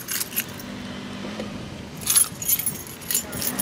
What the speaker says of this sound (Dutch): Zal ik die sleutels in de tas doen?